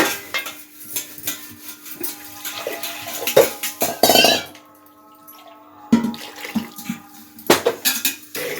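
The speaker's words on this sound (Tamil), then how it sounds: "இப்போ மிக்ஸி கழுவி கொஞ்சம் தண்ணி ஊற்றிக்கோங்க." A mixer jar is rinsed and water is poured in while cooking a brinjal curry in a kitchen. Metal clinks and clatters, with splashing and a steady trickle, then a quiet pause before more knocks.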